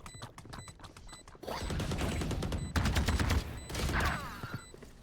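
Rapid gunfire from the Valorant video game, dense bursts of shots in quick succession, loud and close, with short breaks between volleys.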